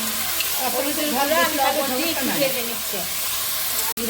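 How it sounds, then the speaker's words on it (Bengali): Curry with green chillies, turmeric, salt and coriander powder sautéing in a pan gives a steady, close sizzle and hiss, with voices talking over it throughout. "এখন তরকারিটা কষানো হচ্ছে"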